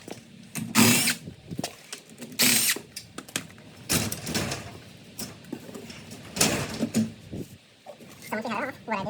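Short, loud bursts from a power driver back out the bolts holding a garage door track, each whirring burst separated by pauses while someone talks nearby.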